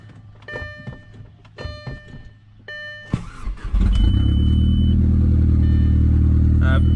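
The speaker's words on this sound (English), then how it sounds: "So let's start the car and see what it reads." A few chimes and clicks come first, then an Audi A4 B7 engine cranks and catches, settling into a loud, steady idle rumble close by.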